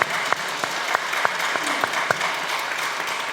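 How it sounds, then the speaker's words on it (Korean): A church congregation claps together in sustained applause during a Sunday service, a dense, steady patter of many hands with a few sharper claps rising above it. "우리 하나님께 영광 박수 올리겠습니다"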